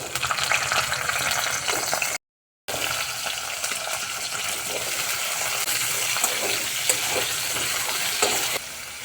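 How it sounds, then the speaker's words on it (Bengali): Potatoes and carrots fry together in a pan for a hotel-style shukto, with a dense continuous sizzle and stirring scrapes, close and loud, broken by one brief dropout. "এবার আলু আর গাজরগুলো একসঙ্গে ভেজে নেব।"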